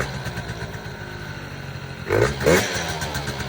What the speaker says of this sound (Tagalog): Kung maririnig nyo, para siyang sa unang half throttle ko, medyo nalulunod kasi medyo overfeed siya.